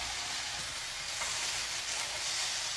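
A salmon fillet searing on a hot griddle gives a steady, close sizzle and hiss that stays even throughout, with no voices over it.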